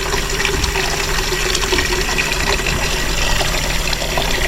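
Water pours and fills steadily at a roadside spot at night, a continuous loud rushing and splashing with no break, close and with no voices.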